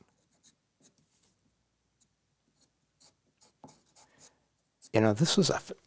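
A chalk pencil colouring on paper, faint short scratchy strokes in an irregular rhythm, ending with a person speaking up close.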